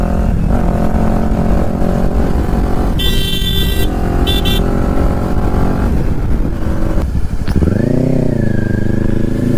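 A Kawasaki Ninja 400 BS6 motorcycle rides on a road with a steady, loud engine drone, a few brief higher-pitched tones midway, then a rising rev as it accelerates near the end.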